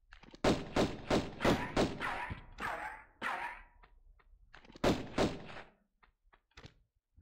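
Gunfire striking the player in Tomb Raider 1 Remastered on PS5: a quick volley of sharp, punchy shots and thuds, a short lull, then another cluster of hits and a final faint shot.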